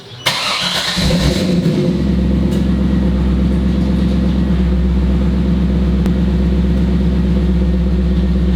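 A Chevrolet Camaro SS 4th gen with a newly converted shifter starts up close by and settles into a loud, steady, deep engine rumble that holds without a break.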